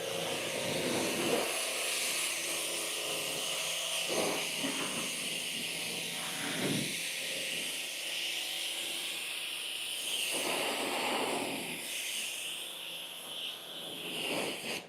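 A pressure-washer wand sprays pre-wash rinse water across a car, giving a steady loud hiss that swells and dips as the spray sweeps over different panels, with no voices.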